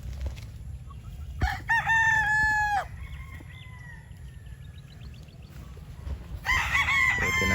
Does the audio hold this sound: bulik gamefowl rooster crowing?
yes